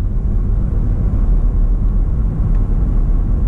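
A 1999 GMC Yukon with a swapped-in 5.3 V8 accelerates, a loud, steady low engine rumble heard close up and continuous throughout, with no voices.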